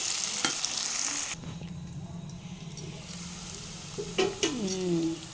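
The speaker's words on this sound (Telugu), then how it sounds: "కొంచెం గోల్డెన్ కలర్ కావాలి. వేగితే బాగుంటుంది కాకరకాయ." Spiny gourd curry frying in oil in a pan until golden, with a steady sizzle and stirring scrapes against the pan; the sizzle drops lower midway and a few clinks and a short squeak come near the end.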